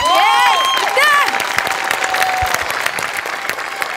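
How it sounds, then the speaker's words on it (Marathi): Loud, sustained applause from a comedy-show stage audience on Maharashtrachi Hasyajatra, dense clapping mixed with crowd cheers, with a raised voice ringing over the opening second. "तुझ्यासाठी जोरदार टाळ्या"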